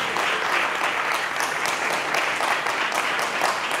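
Dense, steady applause from an audience at a debate event as a team is called to the stage, a continuous wash of many clapping hands filling the space with no voices standing out.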